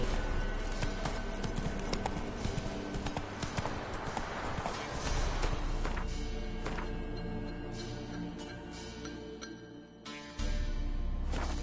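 Roach the horse's hooves clip-clop steadily across ground in a video game, a continuous rhythmic trot with brief pauses, carrying on under faint game ambience.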